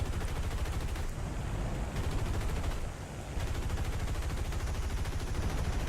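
Aircraft machine guns rattle in rapid, continuous bursts during a War Thunder air battle aboard a B-17, loud and dense with two brief pauses between the strings of fire.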